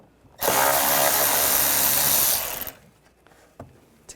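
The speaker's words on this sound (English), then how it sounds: "we're going to take this screw out right here, and there's one on the other side. Use a T25 socket." Power tool whirs steadily for about two seconds as a T25 socket backs a screw out of the radiator area on a 2009–2017 Volkswagen Tiguan, loud and close, followed by faint clicks and handling noises.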